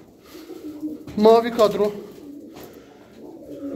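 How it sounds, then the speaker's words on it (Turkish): Pigeons coo close by in a loft, a short burst of throaty rolling calls in the middle, with someone speaking briefly around it. "Yakından da göstereyim kuşları"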